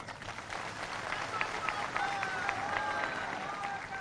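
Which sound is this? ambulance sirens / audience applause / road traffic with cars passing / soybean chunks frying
audience applause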